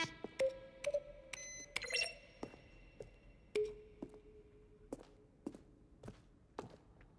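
Menu button sounds from The Stanley Parable, a keyboard stroke layered with a synthetic tone. A series of soft clicks, some carrying brief sustained beeps, repeats at an irregular pace over about seven seconds, clean and unaccompanied by speech.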